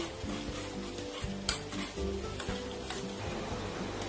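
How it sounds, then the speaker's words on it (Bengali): Chopped garlic sizzles steadily in hot oil for an egg tadka, a loud continuous frying crackle with scraping stirs and a few sharp utensil knocks against the pan throughout, no voices. "রসুন কুচি দিয়ে দিচ্ছি।"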